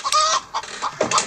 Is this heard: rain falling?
no